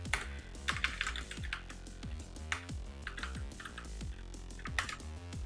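Text is typed on a computer keyboard, giving a quick run of soft key clicks set against a louder rhythmic music bed that carries through the whole stretch.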